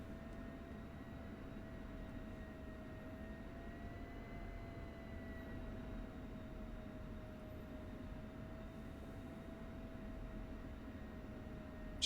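Aircraft engines idle on the ground in the DCS combat flight simulator, a faint, steady whine with a constant tone over a wide even rush, lasting throughout without a break.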